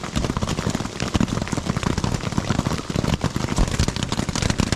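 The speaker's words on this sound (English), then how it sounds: "It's been raining off and on." Heavy rain pelts a tent fabric on the Pacific Crest Trail in a dense, continuous patter of loud close drops, with no voices.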